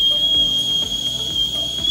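A pressure cooker whistles in a home kitchen, a loud, piercing, steady high tone held throughout with faint rumbling underneath.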